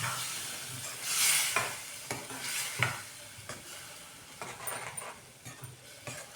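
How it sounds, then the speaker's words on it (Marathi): A bean curry with fresh field beans and ground masala is stirred in a pan, giving quiet scraping and clinking strokes at an uneven rhythm over a faint background sizzle. "मिक्स करून घेऊया."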